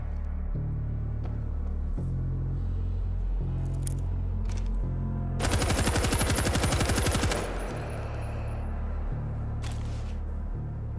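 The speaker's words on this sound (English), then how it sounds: "Putting down a 50 cal turret." A .50 caliber turret in the World War Z video game lets off a fast, loud burst of machine-gun fire lasting about two seconds. Game sounds and rumbling come before and after the burst.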